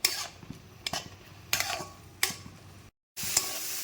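Cumin powder and grated ginger sautéed in a pan for a vegetarian ridge gourd and moong dal ghonto, with spatula scrapes and clinks punctuating a soft, close sizzle and a brief drop to silence near the end.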